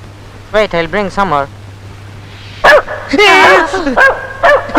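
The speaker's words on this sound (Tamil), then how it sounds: "என்ன நாய் குலைக்குது" A dog barks in two bursts, a quick series of yappy barks then a longer run of louder barks and whines, close by, with voices around it.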